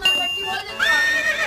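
A horse gives two loud, close, quavering whinnies in quick succession, with a short gap between them and people talking nearby.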